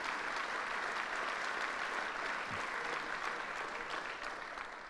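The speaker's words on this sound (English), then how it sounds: "So let's give him a big round of applause." A crowd at a government announcement event in Schenectady applauds a new official. The clapping is steady and continuous throughout, heard from a moderate distance with no voices on top.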